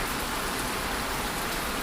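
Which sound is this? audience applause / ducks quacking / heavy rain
heavy rain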